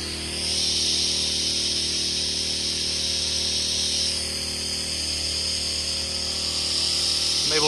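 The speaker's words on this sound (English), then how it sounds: "Spray right at the top, no problem." A gas-powered softwash pump sprayer with a 1-inch water pump hisses in a steady, continuous spray of water close by, aimed at the top of a two-story house, holding at an even level for several seconds.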